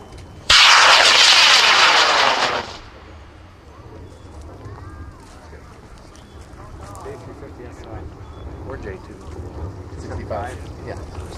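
A scratch-built 105-inch, 4-inch-diameter model rocket launches with a sudden loud roaring hiss that lasts about two seconds, then fades to outdoor crowd and wind noise at a club launch event.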